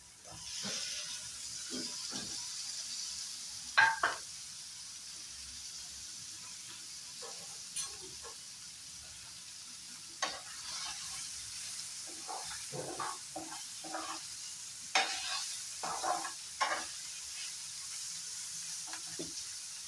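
Boiled boneless chicken stirred in a pan for an oil-free dish, giving a soft steady hiss with scattered scraping clicks from a utensil, fairly close and without talk.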